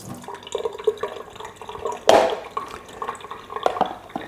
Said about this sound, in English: you want to hold this up over the sink because it may still drip a little bit